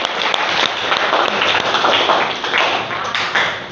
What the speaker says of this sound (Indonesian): Tepuk tangan buat Sayid